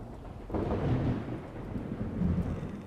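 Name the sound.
thunder in video game Project Zomboid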